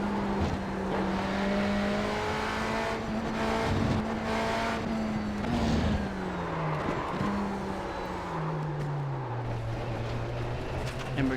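A race car laps the Algarve International Circuit at Portimão in the iRacing simulator, its engine droning close and continuous, the pitch gliding up and down through gear changes and dropping steadily toward the end, with no talk.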